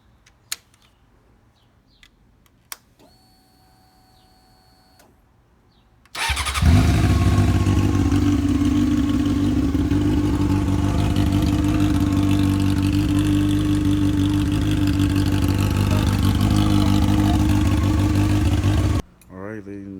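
A 2002 Honda CBR F4i motorcycle first gives a few faint clicks and a quiet whir as the fuel pump primes, then its engine catches and runs loud and steady near by for about twelve seconds before cutting off.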